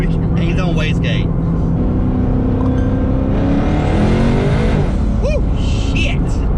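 A twin-turbo Coyote-engined S550 Mustang accelerates hard on low wastegate boost, engine droning loudly throughout with rising pitch sweeps, while people talk and shout over it inside the car.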